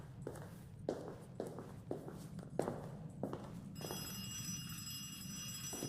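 A telephone rings in a video game, entering near the end as a bright, sustained ring after a series of footsteps, heard fairly quietly with no talk over it.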